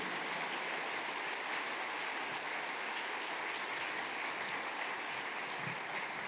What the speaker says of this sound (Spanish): Le damos gran aplauso para todos hermanos también.